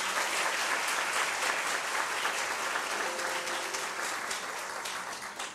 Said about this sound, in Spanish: para quien pido otro fuerte aplauso